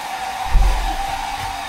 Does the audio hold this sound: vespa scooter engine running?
no